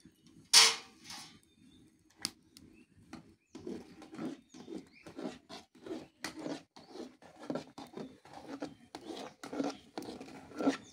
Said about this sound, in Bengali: খিচুড়িতে দেবো তাই আদা রসুনটা বেটে নিচ্ছি।